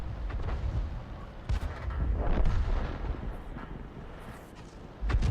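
A 105 leFH18B2 artillery gun fires in World of Tanks, deep booming blasts and rumbling explosions rolling through a loud battle soundscape, several heavy bursts spread across the moment.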